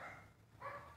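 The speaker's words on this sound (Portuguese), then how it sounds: "o latido da Lili me tirou atenção aqui" A dog named Lili barks indoors, two faint muffled bursts about half a second apart, somewhat distant and low in level.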